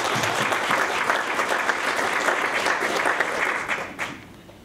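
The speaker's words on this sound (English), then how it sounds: "And I think that deserves a round of applause." Lecture-hall audience at an inaugural lecture gives sustained, dense applause that holds steady for several seconds and then tapers off with a few last claps.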